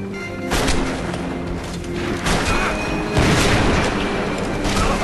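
Long-range gunfire in Max Payne 3 during a botched money exchange, heard as a dense run of booming shots and crashes over a loud, busy game soundscape lasting several seconds.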